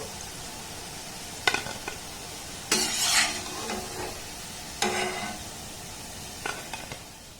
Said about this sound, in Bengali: একইভাবে সমস্ত মিষ্টিগুলোকে আমি ভেজে নেবো